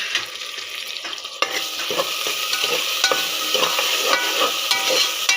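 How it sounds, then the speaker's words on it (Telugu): Chopped onions and green chillies sizzle steadily in hot oil for a mutton curry, close up, with repeated scraping stirs of a spoon against the pan over a continuous frying hiss. "కొంచెం బ్రౌన్ కలర్లో వచ్చే వరకు వేయించుకోవాలి"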